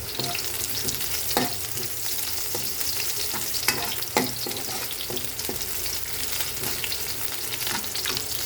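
Garlic and onion sautéing in oil for a Filipino cabbage dish, with a continuous bright sizzle and repeated spatula scrapes and taps against the pan.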